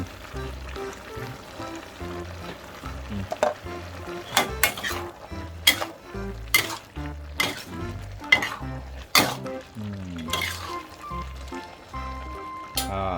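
A chicken mixture with toasted rice powder cooking in a pan, stirred with a utensil that clinks and scrapes against the pan in irregular sharp knocks over a soft background sizzle.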